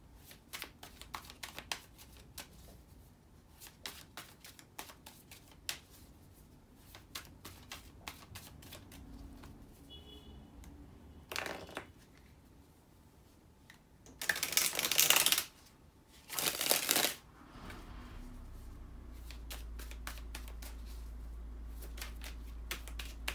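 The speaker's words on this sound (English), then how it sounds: "let me shuffle the cards" Tarot cards being shuffled at close range, a long run of soft riffling flicks and papery taps, with two louder bursts of bridging riffles near the end and a low hum underneath.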